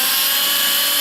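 A power drill runs continuously while drilling out a hand-built model part, a loud, close, unbroken high-pitched whine lasting about a second.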